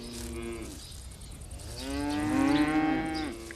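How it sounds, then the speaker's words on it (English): Grazing cattle in an open pasture give two drawn-out moos, close and clear, the second louder and longer, with quiet outdoor ambience between them. "The cattle that graze here groom the land in a natural way."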